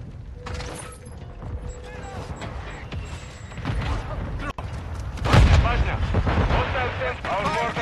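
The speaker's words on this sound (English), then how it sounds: "Hostiles launched a mortar strike." Mortar strike explosions in Call of Duty MW2 multiplayer, with booming impacts building to a loud blast midway, mixed with gunfire and game effects under a voice talking.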